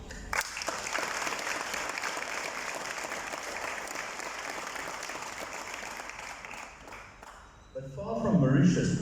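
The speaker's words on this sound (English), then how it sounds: "So big applause to the drafting team." An audience applauds at a book launch in Mauritius, steady dense clapping for several seconds that swells louder near the end.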